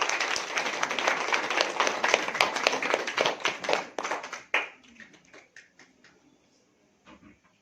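An audience at a Women's Day programme claps loudly to welcome guests, dense applause that holds for about four seconds, then breaks into scattered claps and fades to silence.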